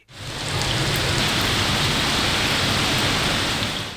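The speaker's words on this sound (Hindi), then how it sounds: "कराची में मानसून के बादल एक बार फिर गरज चमक के साथ बरसे" Heavy monsoon rain in Karachi, falling loud and unbroken as a dense hiss that rises within a fraction of a second and holds steady without talking.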